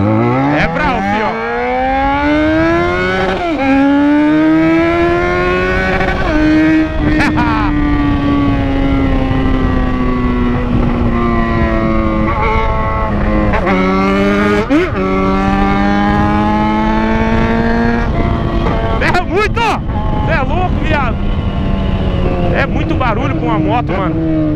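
Yamaha XJ6 motorcycle fitted with a straight-pipe exhaust, loud and close as it pulls away from a traffic light, rising through several gears with sharp shifts between climbs, while a rider talks over it throughout.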